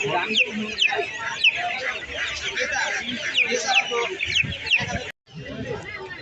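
Native chickens and roosters cluck and squawk close by at the Tongi bird market in Bangladesh, repeated sharp calls overlapping amid general market bustle, with faint voices in the background.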